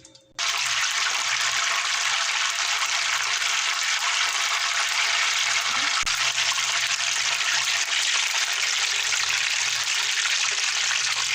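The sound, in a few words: chicken frying in hot oil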